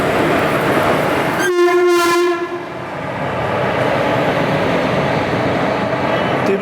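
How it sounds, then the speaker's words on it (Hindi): The 17420 Vasco da Gama–Tirupati Express pulls into Toranagallu junction. A loud, close horn blast of about a second rises over a steady rail rumble that continues afterwards. "5:34 पर हमारी ट्रेन पहुंची है"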